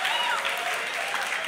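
An audience claps at a church sermon, a brief burst of dense, fairly even applause filling the room, with voices audible through it.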